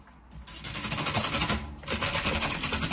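A kitchen machine with slicing cone number 3 cuts onions, a steady fast whirring motor with rapid rhythmic chopping pulses running continuously and fairly close.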